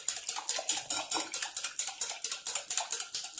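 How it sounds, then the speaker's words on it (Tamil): A hand beater whisks homemade mango fruit drink in a bowl, giving a fast steady rhythm of light metallic clinking and splashing, close and continuous with no voices. "இந்த பீட்டர் வச்சு நல்லா கலக்கணும்"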